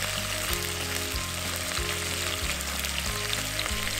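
Chicken thigh pieces fry skin-side down in a pan, a loud, dense, continuous sizzle close up with a rain-like hiss, no voices, under a low background music bed.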